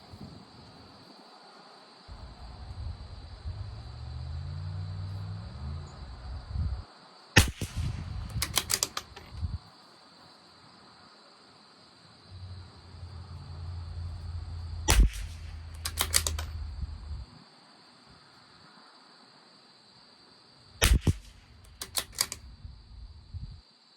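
Shots from a Tikka T1X rifle firing SK Standard Plus ammunition at a 50-yard range, three spaced groups of sharp cracks with a few quick shots in each, set against a steady background hum and low rumbles, no talk.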